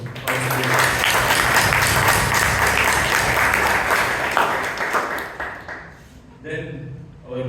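Loud, sustained applause from members at a Toastmasters club meeting in Bangalore, dense clapping that tapers off toward the end, followed by a speaking voice.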